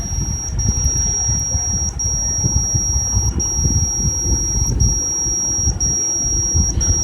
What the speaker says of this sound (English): Therefore the buzzer is beeping.